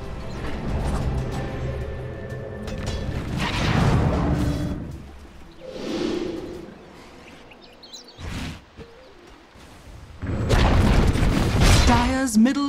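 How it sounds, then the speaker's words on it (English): Dota 2 tower destruction in a video game: several deep booming crashes and rumbling impacts rise and fall, the last burst loud and dense near the end, layered over game music and ambience. "Dire's middle tower has fallen"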